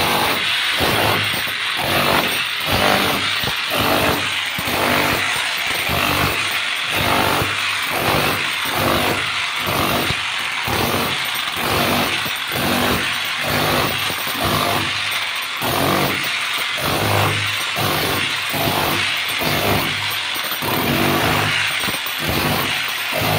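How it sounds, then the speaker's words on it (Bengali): A wood chipping machine run by workers at a chipping center, loud and close, with a rhythmic pulsing roar of repeated heavy bursts about once per second over constant high-pitched mechanical whine. "দেখুন আমার ওয়ার্কার্স কাজ মেশিন চালাচ্ছে।"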